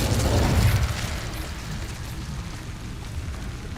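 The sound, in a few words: Incendio fire spell effect, Hogwarts Legacy video game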